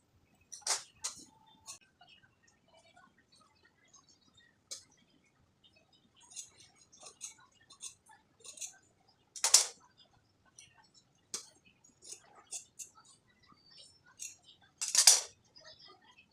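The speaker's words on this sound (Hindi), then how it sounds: "तो यहाँ से हम कट कर लेंगे कपड़े को।" Scissors cut boat-neck blouse fabric in crisp, close, irregular snips and clicks, some louder than others, against near silence.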